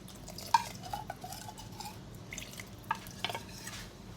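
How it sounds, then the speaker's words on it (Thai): A spoon stirs thick fish maw soup in a pot, making soft, close scraping and faint clinks with a couple of sharper taps over a low, steady background. "แล้วก็คนนะคะ"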